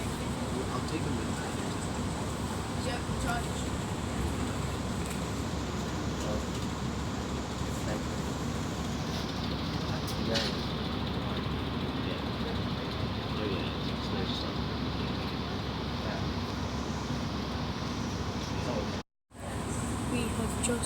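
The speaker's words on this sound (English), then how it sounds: "We have just gone, like we would on a normal Metropolitan line train, we have sped through some Jubilee line stations" Continuous rumble and rattle of a London Metropolitan line train speeding through Jubilee line stations, steady wheel and motor noise with a brief dropout near the end, under a voice talking throughout.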